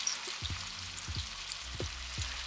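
Onions and other stew vegetables sizzle steadily in a pan on the stove, a continuous close frying hiss with soft intermittent pops and clicks throughout.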